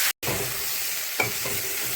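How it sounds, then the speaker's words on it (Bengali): Mixed vegetables sizzling steadily in a hot pan, broken by a brief silent gap near the start, with a couple of soft scraping stirs and a light clink partway through. "এটা ভাজা হতে থাকুক"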